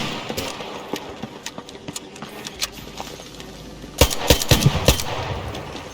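Repeated gunfire in the Arc Raiders game, sparse shots through the first seconds, then a louder cluster of sharp bursts near the end over a steady game ambience.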